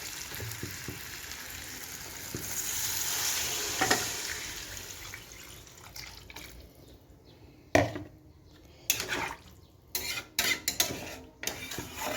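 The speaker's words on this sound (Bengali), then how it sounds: "আর একটু নাড়িয়ে টাড়িয়ে দুল দিয়ে নিচ্ছি" Potatoes and catla fish curry being stirred in a frying pan, a steady sizzle with scraping clatter of the spoon against the pan, growing into louder irregular knocks and stirs in the second half.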